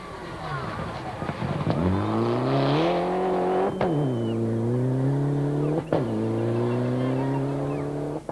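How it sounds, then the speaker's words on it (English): A rally car driving hard through corners in the 2006 Tour Natal, the engine rising and falling through gear changes with loud, close revving, while a commentator talks over it. "Rueda threw his car through the corners, aware of Fecken's presence."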